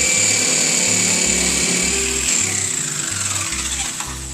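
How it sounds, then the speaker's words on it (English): A jigsaw fitted with a large-tooth blade cuts through bathroom flooring, loud and close, with a rapid buzzing chatter that surges in short repeated bursts and then trails off over about four seconds. "Then take a jigsaw that has a lot of big teeth on it."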